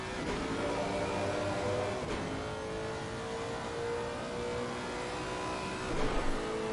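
A Lexus race car engine drones steadily around the Suzuka circuit in the Assetto Corsa Competizione video game, with its pitch rising and dropping through gear shifts and a continuous loud tone throughout.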